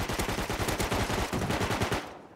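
Rapid automatic SMG fire in the Rust video game, a loud continuous burst of closely spaced shots lasting about two seconds before cutting off, with no talking.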